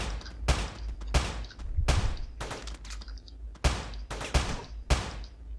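Gunfire in the video game Teleglitch, a series of sharp percussive shots in uneven bursts, loud and close, with no voices.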